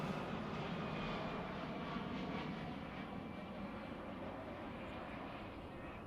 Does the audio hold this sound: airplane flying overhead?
yes